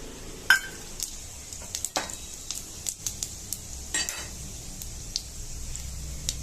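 Cumin and mustard seeds sizzle in hot oil while being prepared for traditional Maharashtrian alu vadi, a steady close frying hiss broken by a few sharp crackles and utensil clicks.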